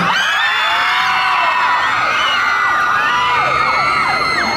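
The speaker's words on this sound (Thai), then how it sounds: "ถ้าไกลกรี๊ดดังๆจะเดินไปหา" A large crowd at a Siam Paragon summer music festival concert in Bangkok screams and cheers continuously, loud and dense, with high-pitched shrieks rising and falling throughout.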